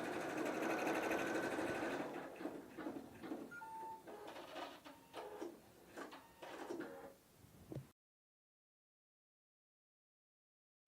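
PFAFF creative 4.5 embroidery machine stitching an appliqué design, a loud steady mechanical whir with rhythmic needle clatter for about eight seconds, then stopping abruptly into silence.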